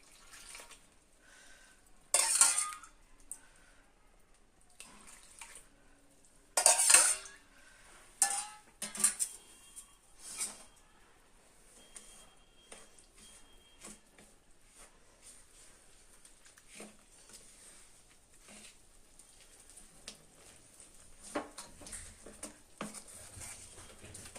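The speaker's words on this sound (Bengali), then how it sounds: "অল্প অল্প জল দিয়ে আমি ব্যাটারটা তৈরি করে নেব।" Rice flour batter with a spoon of salt is mixed in a bowl with lukewarm water, giving quiet, intermittent clinks, scrapes and wet stirring bursts against a hushed background.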